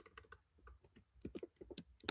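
Fingers type on a computer keyboard nearby, an irregular run of quiet, crisp key clicks with short pauses between bursts, alone without talk.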